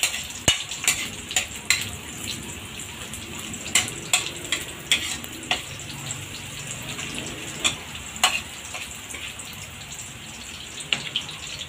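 Garlic and onion sautéing in a pan for paksiw na pata, a steady soft sizzle with scattered sharp clicks and scrapes of stirring, fairly quiet and alone with no voices.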